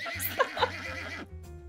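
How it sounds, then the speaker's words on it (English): A black horse in the video game Love and Deepspace lets out a short, close neigh with wavering whinny pulses, followed by a brief quiet tail. "the black horse suddenly starts to struggle"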